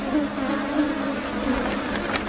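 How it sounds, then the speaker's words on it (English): A swarm of sweat bees buzzing around resting hikers on a hot afternoon, a continuous high insect whine with several overlapping buzzing tones drifting close past the microphone. "Sweat bees, swarms of them."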